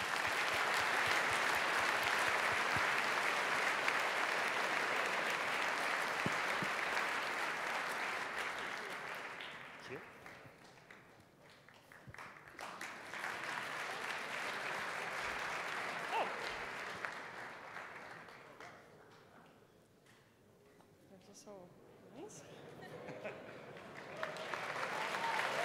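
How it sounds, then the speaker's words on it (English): Audience applause at an evening awards programme, steady clapping that swells, fades around the middle, rises again and dips near the end, with a voice briefly audible. "An applause."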